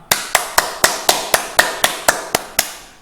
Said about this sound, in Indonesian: Oke, tepuk tangan lagi untuk kita semua